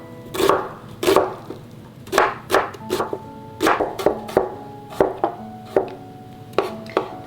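A kitchen knife scores food on a cutting board in close, crisp, fairly regular strikes, about fifteen in a row, with no talking.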